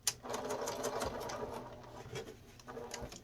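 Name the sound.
sewing machine sewing an aluminium nose strip mask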